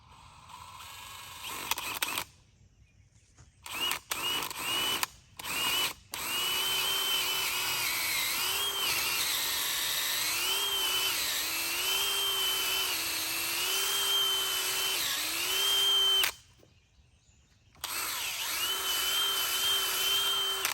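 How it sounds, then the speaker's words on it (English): A power drill whirs in steady bursts, drilling a hole for a ranch gate hinge, its pitch wavering as it bites, with short stops and restarts between runs. "that's where we're going to drill to put this hinge"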